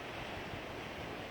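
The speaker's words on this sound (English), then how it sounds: "This is the beach." Steady surf washes onto the shore at Henderson Beach State Park, a continuous broadband roar of breaking waves with some wind buffeting the microphone, no voices.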